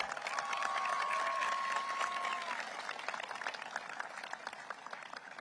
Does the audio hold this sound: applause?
yes